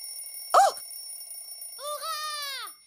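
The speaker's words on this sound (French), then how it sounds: "Mais pourtant, ton réveil dans la cuisine." An alarm clock in a cartoon kitchen gives a sharp, bright ring, then a longer, warbling electronic tone. Both sound clear and fairly close, with no talking over them.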